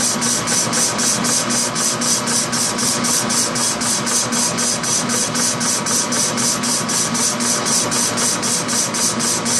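A metal lathe cutting 8 inch round stock with coolant running makes a loud, constant mechanical drone with a fast, even pulsing rhythm throughout, close up and with no talk.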